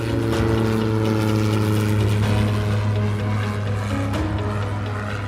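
A small aircraft's engine and propeller drone loud and steady with a strong low hum, holding a continuous tone throughout as the plane takes off from runway 5 at Fort Wayne.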